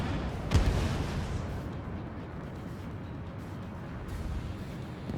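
A missile launch in the Ace Combat 7 jet combat game: one sharp, loud whooshing burst near the start, then a steady roar of engine and air noise.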